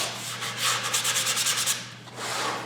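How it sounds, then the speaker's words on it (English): A sander disc grinding across a surface in a continuous rough rasp with a fast pulsing texture, close and fairly loud, a low electrical hum beneath, easing off briefly before resuming. "I'm using a disc from a sander"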